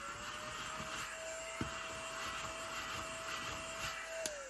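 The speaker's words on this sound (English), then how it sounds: "Vacuum." A vacuum cleaner runs continuously with a steady whine and rushing airflow, fairly close, with a couple of small clicks and bumps as it moves.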